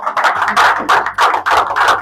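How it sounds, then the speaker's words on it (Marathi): A crowd claps loudly and steadily for about two seconds, the sound swelling in a few waves with brief dips between them. "एकदा जोरदार टाळ्या."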